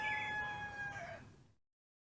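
A rooster crows once in a CD-i game, a bright drawn-out call with strong harmonics that swoops down at the end and cuts off to silence, loud and alone.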